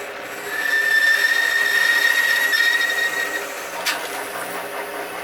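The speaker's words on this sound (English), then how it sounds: "Turn the bandsaw on and make a cut so that the bottom of the cut is 1 inch wide." A bandsaw runs and cuts through wood for an angel ornament, giving a steady motor hum with a thin whine through the cut and a sharp tick near the end; close and continuous, no voices.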